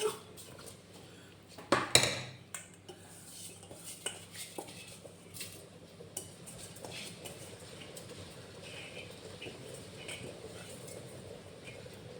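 Washed rice tipped into a pot of boiling biryani water: a loud clatter of pot and utensil, then softer scraping, light knocks and a bubbling wash that fade to a low simmer.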